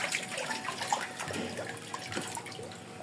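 Water splashes and pours steadily while a catfish tank is emptied and refilled, a busy close wash of running, sloshing water with scattered drips, no talk over it.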